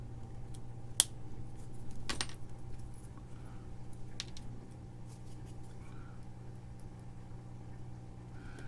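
Metal cutters snip through a DB9 TTL-RS232 converter, giving a sharp click, a louder crunching snap and a few lighter ticks over a low steady electrical hum, close up with no voices.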